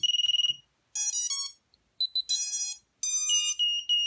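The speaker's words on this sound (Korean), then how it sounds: "불도 들어오고, 삐삐삐 소리도 나고, 준비가 됐고요" A racing drone powering on: a short burst of rapid electronic beeps, then several bright, tonal chirping melodies in quick succession, clear and close with brief gaps between them.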